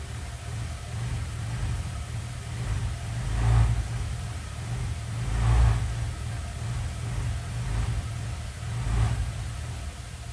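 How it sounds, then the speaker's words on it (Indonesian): A motorcycle engine revved several times, each throttle blip swelling from a steady low rumble into a louder surge around the fourth, sixth and ninth seconds, recorded close with no talking. "Saya akan coba gas lagi motornya."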